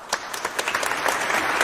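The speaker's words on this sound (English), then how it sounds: "That's a long clap." Applause sound effect played from a soundboard: a short, moderately loud patter of many claps, evenly sustained and fairly close, with no talk over it.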